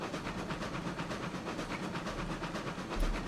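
A steam locomotive in the video game RailRoads Online labours up a grade under load, giving off a steady chuffing hiss with regular rhythmic beats and a low rumbling drive, heard alone at moderate volume.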